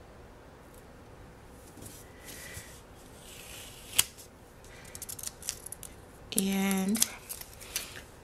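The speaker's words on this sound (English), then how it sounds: "I think I'm going to cut the sticker because it's a little bit too big" Scissors cutting a paper planner sticker at a desk: faint paper rustling and small taps, then a short, distinct burst of snipping near the end, close and fairly quiet.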